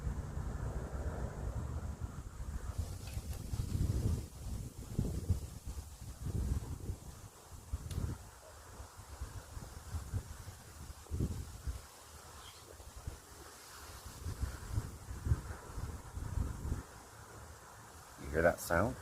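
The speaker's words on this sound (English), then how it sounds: "I don't know if the camera's picking up the wind." Outdoor wind buffets the microphone in low, rumbling gusts that rise and fall throughout, with a person talking at times over it.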